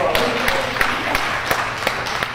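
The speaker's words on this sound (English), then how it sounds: "Let's give him a big round of applause." An audience applauds a city councilor at a farewell gathering: steady rhythmic clapping from a crowd, even and moderately loud throughout, with faint voices mixed underneath.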